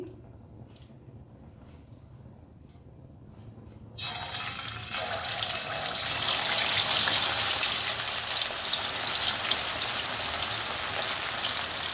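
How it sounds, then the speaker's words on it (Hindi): Marinated Lahori fish pieces dropped into hot oil in a pan, a quiet start that bursts into loud, steady hissing sizzle which swells and holds. "चलिए अब हम इसको फ्राई करते हैं।"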